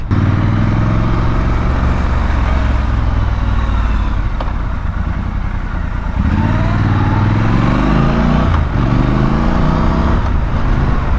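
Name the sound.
Triumph Scrambler 1200 XE motorcycle riding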